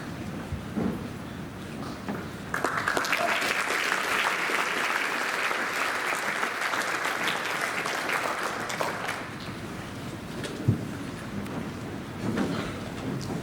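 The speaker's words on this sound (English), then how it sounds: "I would ask if you could just hold your applause till the end" A school assembly audience claps loudly for about seven seconds, then the applause fades to scattered clapping and murmuring.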